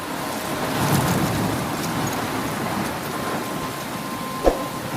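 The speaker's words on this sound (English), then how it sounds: "I'm trapped in a storm?" Heavy rain pours steadily in a storm in Life is Strange, with a low thunder rumble and a brief sharp crack near the end.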